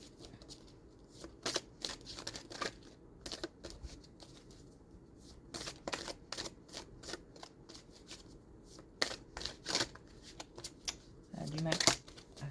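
Oracle of dreams cards are shuffled in repeated bursts of soft riffling and flicking, close and quiet, with brief pauses between handfuls and faint talk in the background.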